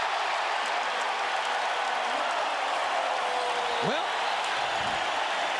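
A basketball arena crowd at an NBA playoff game, Bucks at Pacers, roars in a dense, continuous wash of cheering and applause, with a commentator's voice heard briefly over it.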